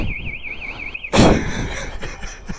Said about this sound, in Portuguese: Pra vocês verem que funciona o alarme.